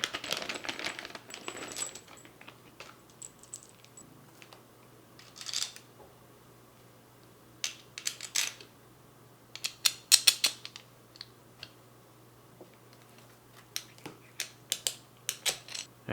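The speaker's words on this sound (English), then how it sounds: "on my base plate, I'm going to get a couple of these screws on each side and the nuts that go with them" Small metal screws and nuts handled and fitted onto a Glidecam DGS gimbal base plate, giving sparse light clicks and metallic clinks in scattered bursts over a low steady hum, fairly close and quiet.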